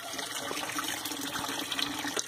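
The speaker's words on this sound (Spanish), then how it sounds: "Este desagote de agua lo que hace es ir hasta un tanque" Drain water from hydroponic PVC pipes pours into a tank, a steady close gushing rush that continues unbroken with no voices.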